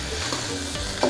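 Free-range chicken pieces stir-fry in a pan with kaffir lime leaves for a spicy curry paste, giving a close, brief burst of sizzling and stirring scrapes.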